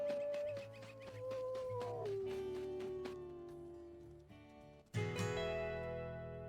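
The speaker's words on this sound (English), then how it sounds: "Let's do a howl with everybody." A wolf pack howls together in the WolfQuest video game, long sliding overlapping howls at moderate level, followed by a sudden louder burst of game sound near the end.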